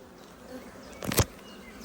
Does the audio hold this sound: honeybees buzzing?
yes